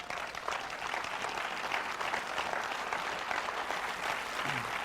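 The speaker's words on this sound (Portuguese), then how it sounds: "vá, aplauda" A church audience gives steady, sustained applause, a dense wash of many hands clapping at a fairly faint, distant level with no voices over it.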